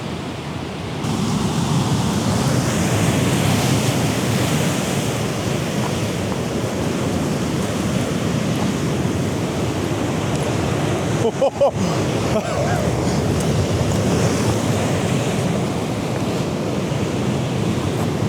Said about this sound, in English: 20-foot waves, them.